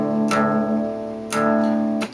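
A guitar's low string detuned down to drop D rings out in two sustained strums, each decaying slowly, with a third attack near the end, close and clear with no talk.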